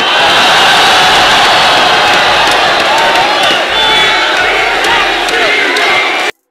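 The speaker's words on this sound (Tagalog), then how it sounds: "tila ba nayanig yung buong venue dahil sa sigawan ng mga tao" Crowd at a FlipTop rap battle venue erupting in loud, sustained shouting and cheering, a dense roar of many voices that holds for about six seconds before cutting off abruptly.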